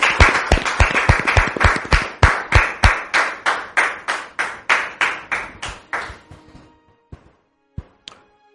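A studio audience claps in unison, roughly twenty sharp, evenly spaced beats that gradually soften and fade, followed by a couple of stray claps.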